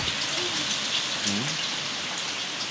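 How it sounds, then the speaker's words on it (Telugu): Steady rain pours and patters on a tin roof and leaks through onto a bed indoors, a dense, even hiss with faint drips and a brief murmur of voices underneath. "మంచం మీద కూడా వర్షం పడుతుంది"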